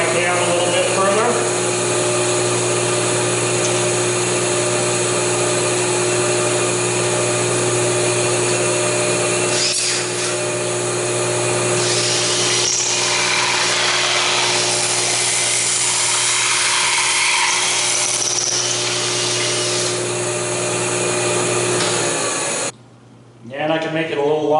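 Table saw running with a barrel taper jig, a loud sustained motor whine with harmonic hum and shifting cutting noise over a long stretch before the blade spins down near the end.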